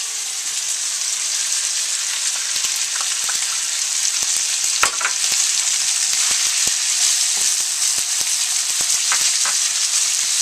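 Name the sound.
mushrooms frying in a pan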